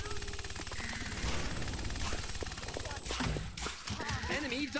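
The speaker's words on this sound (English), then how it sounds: "Oh, we got a barrage incoming now." Rapid gunfire barrage in the Paladins video game, dense bursts of shots with sharp impacts running continuously and loudly through the whole stretch, mixed with other game effects.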